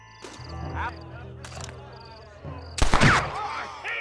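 Gunfire in the Western video game Red Dead Redemption, a sharp loud burst of shots near the end following game dialogue and ambient music, with a voice speaking earlier in the clip.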